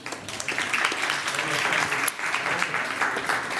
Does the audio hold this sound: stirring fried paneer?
no